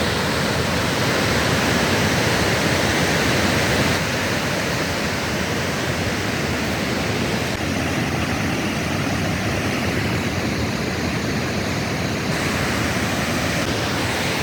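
A clear mountain river rushes past in a steady, loud, unbroken wash of flowing water, close by and heard alone with no voices.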